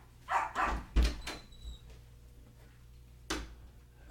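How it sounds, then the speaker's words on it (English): A family dog at home gives a quick cluster of three or four close barks, then goes quiet before one more sharp bark, over faint room noise. "That's the dog. That's our dog."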